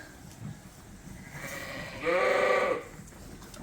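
A Suffolk sheep in a barn lets out one loud, drawn-out bleat that rises clearly above the soft background shuffle of the pen.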